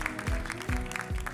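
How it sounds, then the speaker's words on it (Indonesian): An event audience gives applause to four honorees, a moderate steady clatter of clapping hands with repeated low thumping beats of music underneath. "Kalau saya bilang tepuk tangannya untuk 4 orang ini gimana nih tepuk tangan yang paling meriah?"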